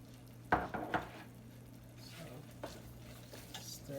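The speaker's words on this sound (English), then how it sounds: "stir that butter in there" A spoon stirring butter into a cream sauce in a pan, with two sharp clinks against the pan early on, then soft scraping and low sizzling, close and quiet, no talk.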